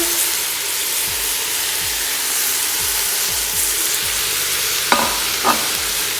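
Cabbage and garlic sizzle steadily in a pan for a vegetable stew, a close, constant frying hiss broken by a few sharp clinks or scrapes near the end, with no voices.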